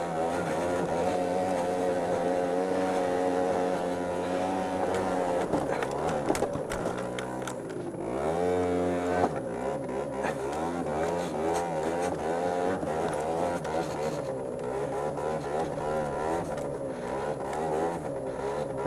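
A 2006 Aprilia SR 50 R scooter engine revs and accelerates up close, its buzzing two-stroke note rising and falling in steady pulls throughout, with faint talk now and then.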